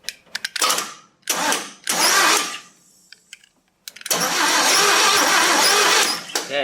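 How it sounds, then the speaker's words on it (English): A 1967 Chevy C10 Stepside engine from a barn find cranks over on a remote starter switch in short bursts, then a longer sustained run of loud, close churning, with quiet gaps between attempts. "we are going to crank the engine over and see if we get spark"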